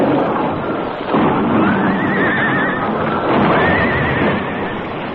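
Horses neigh loudly and close in a radio drama sound effect, two long shrill whinnies rising and falling over a rumbling, noisy background, with no talk.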